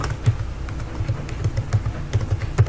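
Computer keyboard typing while a heading is entered during a software practical, a steady run of quick close key clicks with no voice over it.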